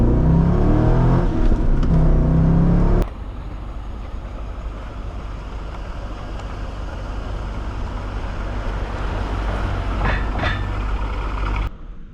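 A 2000 Chevrolet Corvette C5 V8 engine pulls loudly and steadily for several seconds after a brief burst of revving, with road and wind noise underneath and an abrupt cut at the end.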